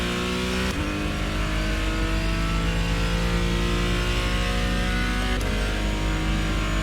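Sim racing game car engine droning steadily through a lap, a continuous mid-pitched hum with sustained tones and brief shifts in pitch, loud and close with no talk.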